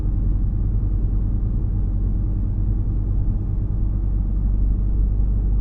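A Volvo five-cylinder engine rumbles low and steady from inside the moving car, a constant deep drone with no talking.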